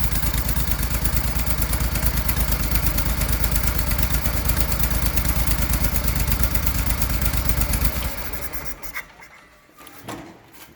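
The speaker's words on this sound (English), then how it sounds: "It's one of the quietest riding garden tractors I've actually ever heard at an idle." A John Deere 322 riding garden tractor with a Yanmar gas engine idles quietly and steadily in a fast even putter, then fades and drops away near the end, with no talk.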